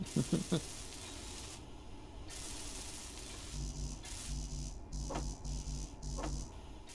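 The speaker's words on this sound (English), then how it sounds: "I'll weld this up, and I'll be back in a minute" Welding tool in the video game Space Engineers gives a steady hissing, sizzling buzz with intermittent pulsing tones and short clicks, moderately loud throughout.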